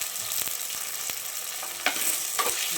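Onions turning golden with tomatoes and rock salt frying in a pan, a steady close sizzle broken by a few soft spatula scrapes and taps, no talking.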